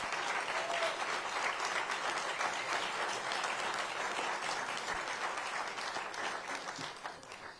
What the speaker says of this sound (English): If you'd like to give them a round of applause,